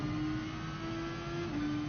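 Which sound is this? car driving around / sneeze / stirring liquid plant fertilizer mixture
car driving around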